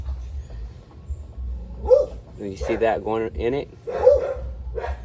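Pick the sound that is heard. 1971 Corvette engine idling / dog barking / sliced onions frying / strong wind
dog barking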